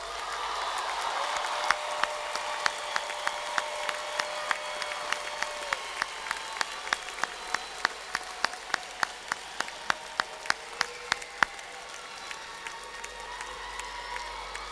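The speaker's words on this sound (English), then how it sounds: "all of our graduates deserve one more round of applause" Graduates receive a round of applause at a university commencement ceremony: scattered, distant crowd clapping with sharp individual claps standing out, sustained and fairly even throughout.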